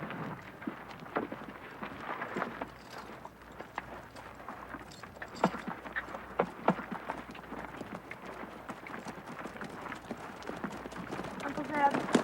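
Horses trot along with a rhythmic clip-clop of hooves in a Western drama, steady rapid hoofbeats mixed with wind and moderate background noise throughout.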